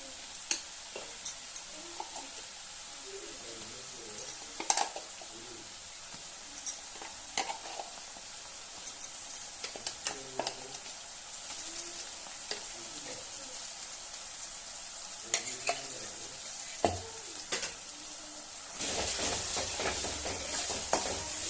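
Finely ground masala paste frying in oil for a spicy country-chicken dish, a continuous sizzle punctuated by regular spoon scrapes and knocks against the pan, with a louder hiss surging near the end.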